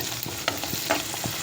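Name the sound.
onions and salt sautéing in a pan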